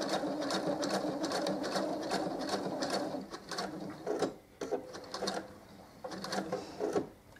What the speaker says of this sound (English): I'm going to start with some reverse stitches. Then go forward